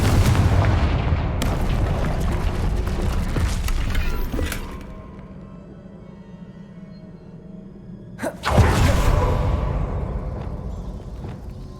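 Confringo fire spell in the video game Hogwarts Legacy, a loud booming explosion with crackling debris that fades, followed by a second sharp blast and rumbling decay.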